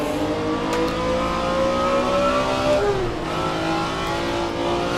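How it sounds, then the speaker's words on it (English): A sports car in the Assetto Corsa racing game at Willow Springs accelerates hard through its gears, the engine note climbing steadily, dipping at a shift, then rising again, loud and continuous with no talk. "Up to fifth gear. We'll max it out down the straightaway"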